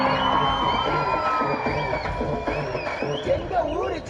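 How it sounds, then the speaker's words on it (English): At a national drone awards ceremony with cricketers from Chennai Super Kings, a large crowd cheers and whoops loudly and continuously, with shouts rising over the roar. "please give a big round of applause to Shivan Dubey, Deepak Thair and Devon Conway."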